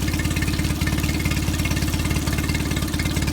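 A 2007 Mercury 8 HP four-stroke twist-shift outboard motor runs in gear with a steady, even, close mechanical hum and rapid regular firing pulses, loud and unbroken throughout.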